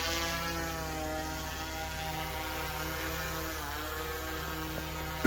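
Small camera drone hovering just after takeoff on a snowy day in Swanton Village, Vermont, its propellers giving a steady, close, even whine with layered tones that hold throughout without talk.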